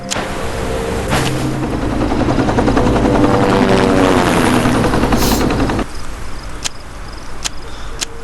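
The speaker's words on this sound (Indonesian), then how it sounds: "helikopter" A helicopter in the video game Resident Evil Survival Unit thrums loudly with a rapid rotor chop, joined by scattered sharp game effects, with the drone easing slightly toward the end.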